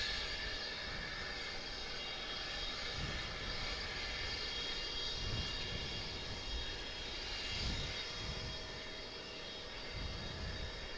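An EVA Air Boeing 777 departing Dallas/Fort Worth airport gives a sustained jet-engine roar with a faint whine, with a few soft swells and dips along the way.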